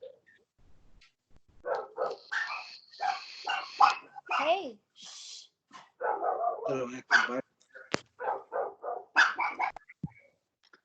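A dog barks in short bursts at home, close to the microphone, with people talking over it throughout.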